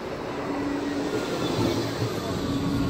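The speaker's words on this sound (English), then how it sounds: "Oh, it's a tram." A Blackpool tram running with a steady, close rumbling drone and a faint hum throughout, without pauses or distinct clanks.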